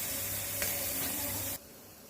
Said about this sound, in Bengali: পিঠার জন্য ব্যাটারটা দিয়ে দিই।